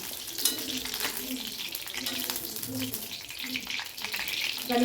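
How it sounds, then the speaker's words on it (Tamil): Eggplant sautéing in hot oil in a pan, a steady close sizzle running throughout with light stirring scrapes. "கத்திரிக்காய் நான் போட்டுக்கேன் இது நல்லா ஆயிலில் வதக்கி எடுத்துக்கலாம்"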